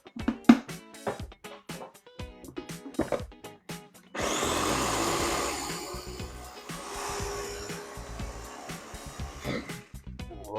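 Blender mixing a peanut butter wing sauce, a loud steady motor whir starting partway through after a run of sharp knocking handling sounds.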